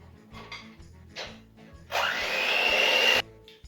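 An electric mixer blends chocolate cake batter with twelve ounces of coffee in a bowl, running loudly for about a second after quieter rhythmic knocking and short bursts.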